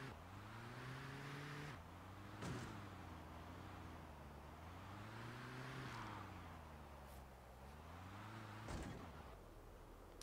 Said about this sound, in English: There is cars.